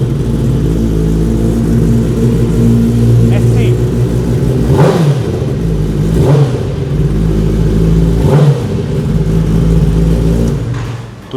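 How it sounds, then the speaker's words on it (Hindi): A Kawasaki ZX-10R superbike engine idles loudly up close with a deep steady rumble, then blips its throttle in three or four sharp revs that rise and fall, on a used superbike market lot. "तो ये है हमारी कावासाकी ZX-10R।"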